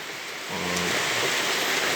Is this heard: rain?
yes